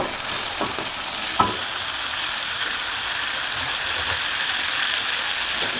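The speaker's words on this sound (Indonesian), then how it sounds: "Aduk sebentar saja sampai sedikit meresap bumbu sambal gorengnya" Fried sunny-side-up eggs are stirred in sambal sauce in a pan, with a continuous hiss of sizzling beneath a few soft scraping and clicking stirs, steady and close with no talking.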